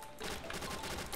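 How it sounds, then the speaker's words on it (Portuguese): A Sterling-Magma submachine gun fires in rapid, continuous bursts during CrossFire gameplay, a dense mechanical rattle of shots that fills the whole moment. "Olha o tanto de tiro dessa arma pra morrer."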